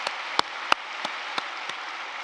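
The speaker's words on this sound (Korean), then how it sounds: "뜨거운 박수해 주시기를 바랍니다" A congregation at a joint Easter thanksgiving service at Yoido Full Gospel Church gives sustained applause, a dense steady wash of claps with a few louder, sharper hits standing out at regular intervals.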